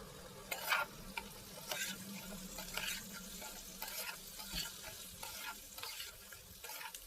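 Masala for a jackfruit and fat curry stir-fried over a high gas flame, with a low steady sizzle broken by repeated scraping strokes of a spoon against the pan, close and fairly quiet.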